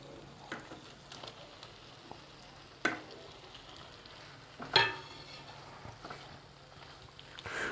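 Unfried paneer pieces go into a simmering masala in a pan for an egg and paneer curry, a quiet wet stirring with soft scrapes and a couple of sharper clunks against the pan.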